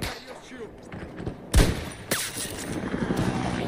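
Gunfire in an Xbox shooter game: two sharp, loud sniper rifle shots spaced about half a second apart, each with a ringing tail, set against a busy backdrop of distant battle noise.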